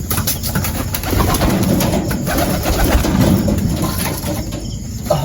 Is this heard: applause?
no